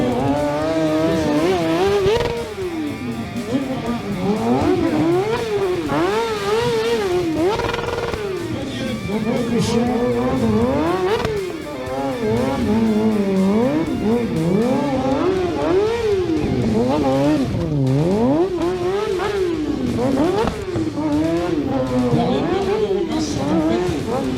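Romain Jeandrot's stunt motorcycle revs hard and drifts through mud at a village moto show, the engine note rising and falling constantly and loudly. An announcer talks excitedly over it throughout.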